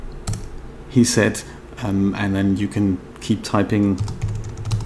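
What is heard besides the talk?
computer keyboard typing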